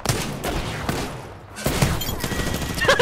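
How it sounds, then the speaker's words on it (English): Rapid bursts of video game gunfire in Apex Legends, dense and fairly loud, with a brief lull before the shooting resumes. "There's shooting down there."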